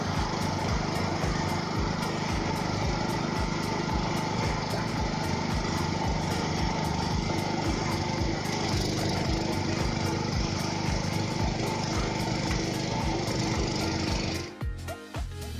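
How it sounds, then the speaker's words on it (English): A Vacula hydraulic wood splitter runs with a continuous loud engine drone and mechanical rattling, steady throughout before dropping off near the end, with no talking. "Hydraulic wood splitter Vacula in Matevo has tons of splitting force"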